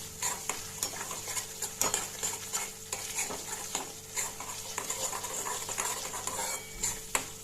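Spiced yogurt tadka (dahi tikhari) being stirred in a pan, a close, continuous scraping of spoon against metal with irregular clinks over a soft sizzle.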